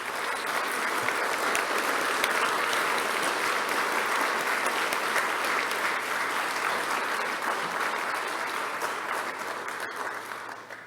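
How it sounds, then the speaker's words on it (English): A ceremony audience gives sustained applause for highly accomplished teachers, steady dense clapping from a large crowd lasting about ten seconds before gradually thinning out. "Perhaps a round of applause for the highly accomplished teachers."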